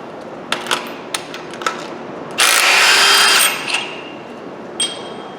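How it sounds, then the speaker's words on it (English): Metallic clicks and knocks while an oil pump is fitted onto a Dodge 4.7 engine during a bottom end rebuild, then a loud second-long burst of mechanical whir and a final clink, close and without talk. "So we'll slide that oil pump on."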